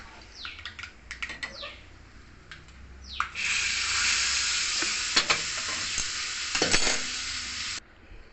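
Asafoetida and dried red chillies for a tempering hit hot oil in a small pan, first a few spoon clicks, then a sudden bright, crackling sizzle that holds steady for several seconds before cutting off abruptly.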